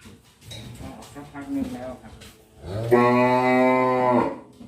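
Brangus cattle on a farm give one long, loud, close moo near the end. Before it come softer rustling and clattering sounds.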